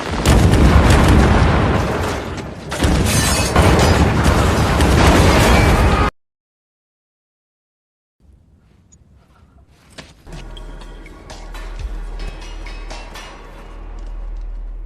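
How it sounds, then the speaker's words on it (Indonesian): Powerful landmine explosions in a film roar loudly for several seconds, then cut to silence before a quieter rumbling aftermath with scattered debris-like crackling. "membuat semua ranjau lain meledak"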